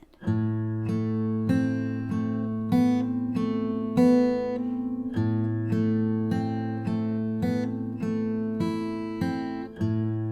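Fingerpicked acoustic guitar plays steady plucked notes over ringing bass tones in an even, repeating pattern, close and clear with no voices.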